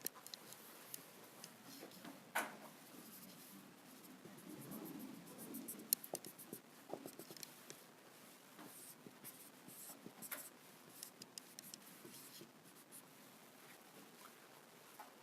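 A pen scratching across paper while a diagram is drawn, faint close strokes with small ticks and taps over about fifteen seconds.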